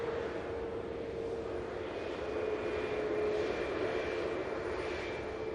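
A Ryanair Boeing 737 MAX 8200 airliner at Manchester Airport gives off a steady, distant jet roar with a faint whine, low and even throughout.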